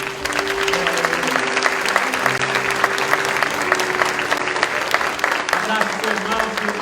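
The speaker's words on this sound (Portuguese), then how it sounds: "Vamos aplaudir a Ele" A congregation at an Advent church service applauds, sustained clapping and cheering voices over music with a low sustained tone, steady and fairly loud throughout.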